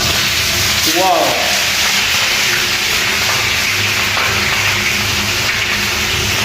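Fish going into a pot of shorva broth for a Bangla fish dish sets off a constant loud sizzling hiss, and a voice briefly exclaims over it near the start.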